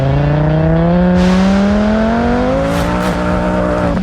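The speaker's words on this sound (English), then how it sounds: "Jacob Light and his 5-cylinder Rabbit doing a run at the Pikes Peak International Raceway" A 5-cylinder Rabbit race car makes a run at Pikes Peak International Raceway, its engine loud and close as the pitch climbs steadily through one long pull with no talk.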